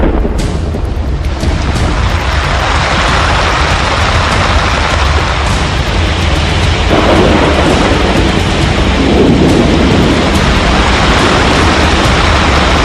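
Heavy rain and thunder over Delhi make a loud, continuous broadband roar, swelling slightly toward the end, with no voices.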